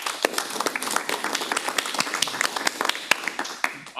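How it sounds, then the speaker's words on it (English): A smallish audience at a Microsoft 365 Copilot event claps, giving brief, uneven applause in which individual sharp hand claps stand out close by. "let's give a quick round of applause for the beautiful premises we got"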